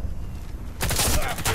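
Burst of rapid gunfire in the online shooter Warface, loud and dense after a quieter opening, with shots fired in quick succession close by.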